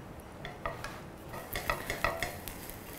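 A spoon stirring Szechuan fried rice in a hot pan: soft scraping and clinking knocks of metal on metal, faint sizzling underneath, a few quick irregular strokes close by, with no talking.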